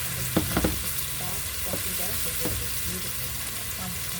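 Dry white cooking wine sizzles hard in a pan with chicken for lemon piccata with capers and garlic butter, a steady close frying hiss broken by a few sharp clicks of stirring early on.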